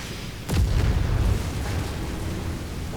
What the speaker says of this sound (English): Oh, still more artillery.